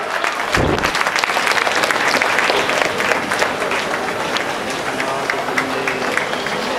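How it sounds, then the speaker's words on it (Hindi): A crowd at a foundation event claps loudly in welcome for a visiting minister, dense sustained applause from many hands, close and continuous, with a sharp thump near the start. "जोरदार तालियों के साथ।"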